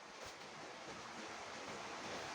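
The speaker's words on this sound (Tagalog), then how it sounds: "It's raining outside." Steady rain outside a home, a continuous broadband hiss with no breaks, fairly faint and even throughout, with no voices over it.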